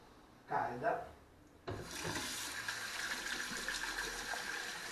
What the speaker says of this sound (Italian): Adesso noi prendiamo un po' d'acqua calda.